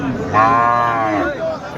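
A thin dairy cow at a village cattle market in Dhunat, Bogura lets out one long, loud, close moo lasting about a second, over faint market background noise.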